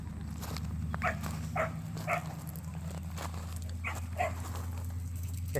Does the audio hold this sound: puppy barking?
yes